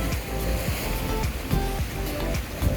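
Sea waves break against a breakwater on the Japanese coast, making a steady, loud wash of surf with repeated heavier surges rolling in close by.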